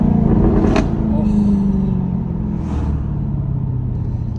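A supercharged V8 in a 2024 Jaguar F-Type is revved to about 3,000 RPM and let off the throttle, so a deep, loud engine rumble settles into low burbling with a couple of pops, and no one speaks.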